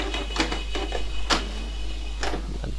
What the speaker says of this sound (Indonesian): Kita matikan printernya, tekan satu kali.